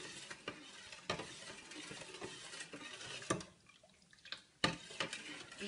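Faint stirring of a bissap drink mixture, with soft liquid swishes and occasional clinks of a utensil against the container, irregular and close.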